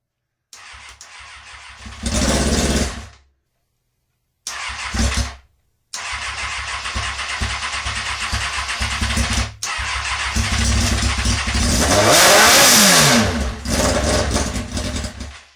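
A Kawasaki ZX6R motorcycle engine cranks and catches in a few short loud bursts separated by silent gaps, then keeps running on its own at close range, revving up sharply near the end before easing back.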